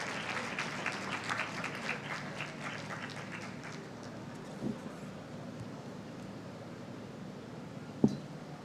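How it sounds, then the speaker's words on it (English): Applause from a conference audience at an international gathering on world religions sounds moderately distant, tapering off after a few seconds into quiet room tone, with a single sharp knock near the end. "Ladies and gentlemen, please show your appreciation with a warm round of applause."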